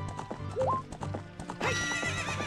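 A horse in The Legend of Zelda: Ocarina of Time gallops with rapid, rhythmic clip-clop hoofbeats, breaks into a whinny partway, and continues running, loud and close over game music.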